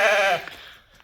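A sheep at a livestock market lets out a single loud, wavering bleat close by, trailing off into quiet background noise.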